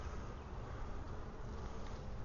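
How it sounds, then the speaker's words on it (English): Honey bees swarming over an open hive frame of worker bees in a Wisconsin apiery, a dense continuous buzzing drone that stays close and steady, with no voices. "A bunch of worker bees."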